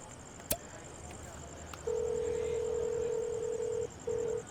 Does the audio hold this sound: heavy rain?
no